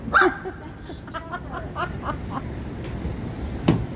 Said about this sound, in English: for the barking.